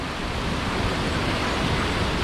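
A river flows near a hidden campsite in Barangay Tambog, Indang, Cavite, giving a steady, unbroken rush of water that fills the whole moment at an even, fairly strong level.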